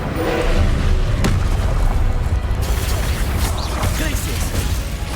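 An Incendio fire spell is cast in Hogwarts Legacy, a loud booming whoosh and crash that rumbles for several seconds with dense game effects.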